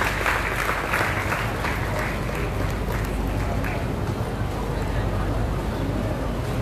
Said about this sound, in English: Ladies and gentlemen, let's give a big applause for the Minister and the Secretary